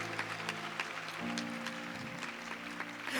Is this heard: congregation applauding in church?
yes